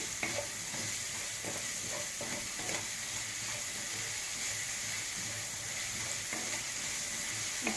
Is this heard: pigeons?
no